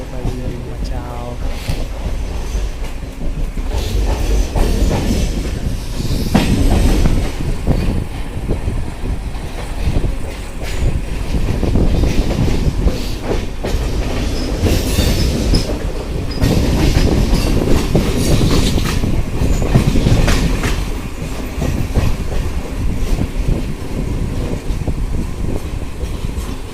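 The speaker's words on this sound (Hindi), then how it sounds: "सो फिलहाल अभी तो मैं लोकल के अंदर हूँ।" Mumbai local train running, heard from inside the carriage: loud continuous rumble and rattling clatter with rushing wind noise, swelling and easing in waves, with no clear talk over it.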